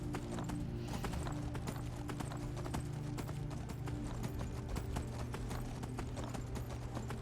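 Steady clip-clop of horse hooves trotting at a regular rhythm in a video game, loud and close, with a constant low hum and busy background underneath.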